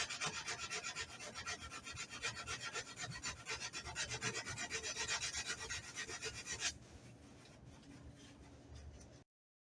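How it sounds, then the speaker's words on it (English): A cloth rubs steadily over the plastic rear bumper of a 1992 Mazda MX-5 with alcohol to lift grease, giving a continuous close scrubbing rasp that drops to a softer hiss for the final few seconds. "Do a little alcohol rub to get any grease and oil off of it."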